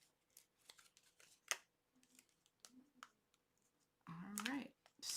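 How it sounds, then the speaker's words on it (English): Teflon scissors cut tape while a gift box is wrapped: quiet, scattered snips and clicks, then a louder sustained rustling, tearing burst near the end. "I am using the Teflon scissors, so that way it's easy to pull off"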